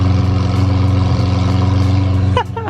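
A loud car engine idles and revs up close on Rodeo Drive, a heavy, pulsing low rumble that holds steady, then drops as other sounds break in near the end.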